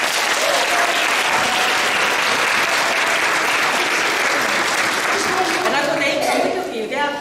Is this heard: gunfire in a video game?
no